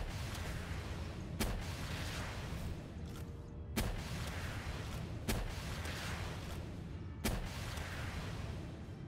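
Explosions set off by the Pal Chardonnay in Palworld, four faint, evenly spaced booms over a steady low rumble of game background.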